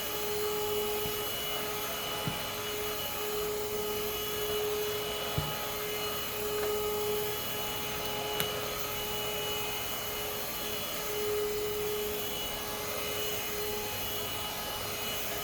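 A Greenote GSC40 handheld vacuum cleaner whines steadily and continuously, with a high motor tone and a few faint clicks, no talking.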